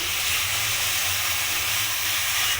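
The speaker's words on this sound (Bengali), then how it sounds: "আমি এখানে দুধটা দিয়ে দিলাম" Warm milk poured into a hot pan of carrots for carrot halwa, giving a loud, continuous hissing sizzle that runs without a break across the whole short moment.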